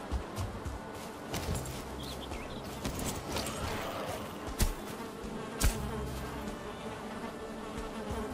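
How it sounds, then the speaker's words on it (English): Bees buzzing in the Valheim video game, a soft continuous drone with a few sharp clicks. "Bees, there's more honey."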